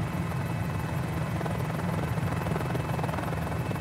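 A Mini-500 helicopter in a flight simulator game drones on with a steady, loud rotor thrum and engine buzz, constant throughout with no voices.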